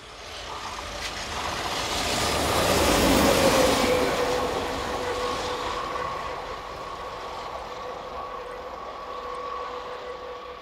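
Locomotive 26122 passes hauling a train, a broad rumble swelling to a peak as it goes by and then fading slowly, with a steady whine running through the passage.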